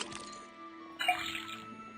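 Liquid running from a tapped faucet into a cauldron in the Detective Grimoire video game, a short trickling pour starting midway, fairly faint over a steady game hum.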